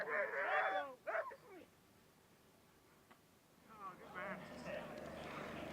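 Sled dogs at the start of a bike-jor race at the European Dryland Championships in Thetford Forest yelp and whine excitedly in short bursts under commentary, with quieter stretches between.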